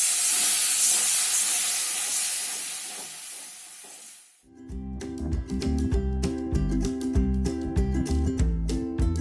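Water poured into a hot pan of roasting cauliflower makes a loud hiss and sizzle that dies down after about four seconds. Rhythmic music follows.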